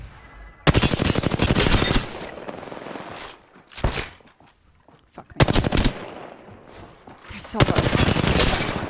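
Rapid automatic gunfire in the Apex Legends video game, loud bursts in several rattling volleys separated by brief lulls, with a voice speaking briefly.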